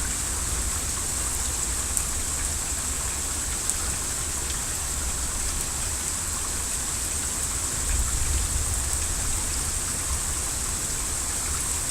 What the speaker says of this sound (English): But now it's finally raining.